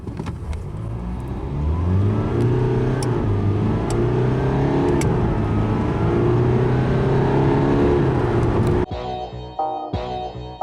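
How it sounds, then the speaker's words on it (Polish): A 2015 Jaguar XE 2.0d 180 hp diesel engine revs up steadily as it accelerates, its droning pitch climbing and dipping before easing off near the end. "mocniej wciskam gaz"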